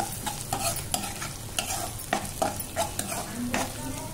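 Homemade ginger garlic paste sizzles in a pan while a spoon stirs and scrapes the bottom in quick irregular strokes, producing close, clattery taps over a steady frying hiss.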